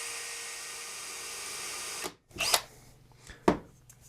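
A small drill bores a hole for a guitar fret marker in a fretboard, a steady high whine that stops abruptly, followed by a few short bursts and a brief knock, close and fairly quiet.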